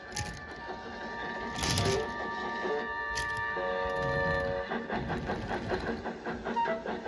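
A steam engine shunting railway freight cars: rumbling cars clatter and rattle steadily close by, with bursts of hissing steam and faint metallic squeals.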